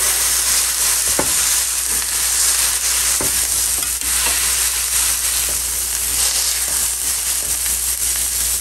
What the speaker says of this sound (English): We're going to take the spatula and smash these down.